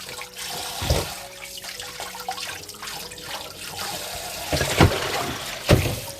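Running tap water splashes over raw chicken drumsticks being rinsed in a kitchen sink, a steady close wash of flowing water with a few louder splashes as the pieces are handled.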